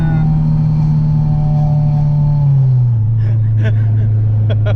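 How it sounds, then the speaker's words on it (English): Honda car accelerating hard with engine drone dropping in pitch as it shifts into second gear; a brief tire chirp is faint, with excited voices in the cabin over the engine. "You scratched the tires again in second."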